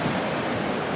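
Loud, steady roar of ocean surf breaking on a beach along a rugged, dangerous coastline in Torndirrup National Park near Albany, Australia, with a wind-blown rush filling the whole moment and no voices.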